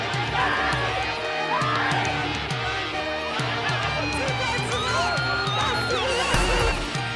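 Thousands of anti-austerity demonstrators march through an Italian town, their crowd noise and scattered shouts swelling under a steady spoken narration, with a rhythmic chant or drumbeat pulsing through the din.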